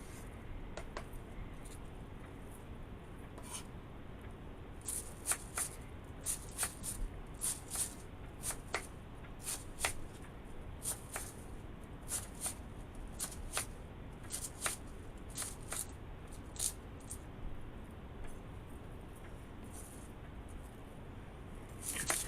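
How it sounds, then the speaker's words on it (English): A knife roughly chopping cabbage on a cutting board, irregular light taps and crisp cuts repeating close by at a low level, with no voices. "Just a good rough chop on this."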